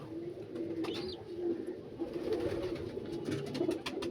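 Pigeons coo softly and repeatedly near a hen sitting on eggs in a loft, low rolling calls rising and falling in a close, quiet setting.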